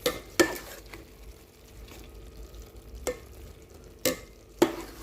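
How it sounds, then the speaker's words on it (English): A spoon stirring a sausage chutney mixture in a pan, with a soft sizzle underneath and several sharp scrapes and knocks against the pan at irregular intervals. "we're going to give this a good mix"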